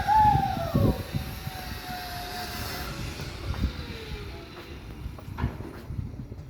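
A scooter pulls away under throttle, its engine whine rising in pitch and then fading as it moves off, with rumbling road noise and a few knocks underneath.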